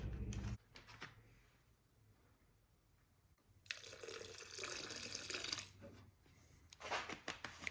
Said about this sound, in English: So I'm gonna try pouring in just a little bit of simple green.